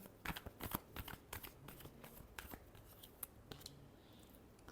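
A deck of tarot cards is shuffled close by in a quiet room, giving a run of quick, crisp riffling snaps and soft flutters that come in bursts before slowing to scattered flicks.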